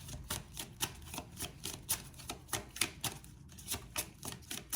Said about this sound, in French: Allez, on va mélanger un peu ces cartes-là.